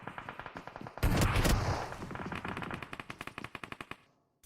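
Rapid automatic gunfire from a PUBG Mobile firefight in a tournament grand final, with a loud burst like an explosion early on, then steady clipped shots that thin out into separated bangs before stopping.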